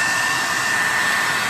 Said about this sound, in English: And you probably want to set the heat gun to probably like high.